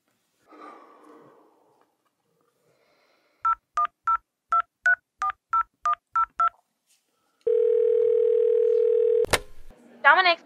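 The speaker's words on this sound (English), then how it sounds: "You're gonna pick up the phone and you're gonna call this place" Telephone keypad tones dialing a pizza place: a quick run of about ten evenly spaced beeps, then a steady dial-line tone, a sharp click and a brief squeal, with a faint voice murmur at the start.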